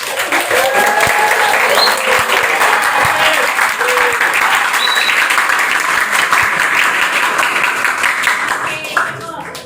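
Classroom of schoolchildren applauding together after group work, steady dense clapping that fills the room for nearly ten seconds with a few voices calling out over it before it fades at the end.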